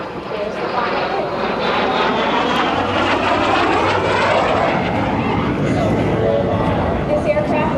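A T-33 Shooting Star, a 1958-built jet trainer at an air show, flies a loop, its steady loud jet roar sustained throughout with a slowly shifting pitch, while an announcer talks over the noise.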